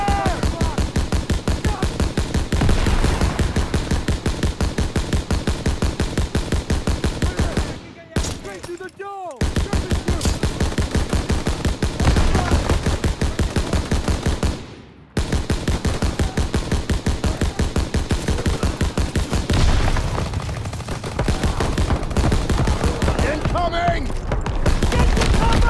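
Dense, loud gunfire from a Call of Duty WWII battle: rapid machine-gun and rifle bursts roll on almost without a break, dropping out briefly around eight and fifteen seconds, with shouted voices mixed in at times.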